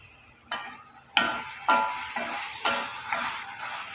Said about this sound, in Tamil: இப்போ காயெல்லாம் நல்லா வதக்கியாச்சு